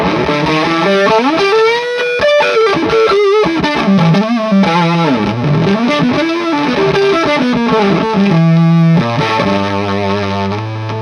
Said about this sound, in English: Maybe a bit of a muff sound.